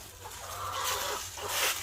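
Chickens in a winterized backyard run give a few soft, short clucks and murmurs, rising in two small bursts over a quiet background, faint and unaccompanied by talk.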